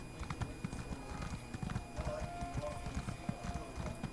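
Horse hooves galloping in Elder Scrolls Online, a rapid steady clip-clop of hoofbeats at close range with faint talk underneath.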